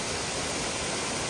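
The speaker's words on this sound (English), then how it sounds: "Well, this is Katahdin Stream Falls. Beautiful waterfall here." Katahdin Stream Falls on the Appalachian Trail in Maine: a steady, dense roar of falling water, close and continuous with no voices over it.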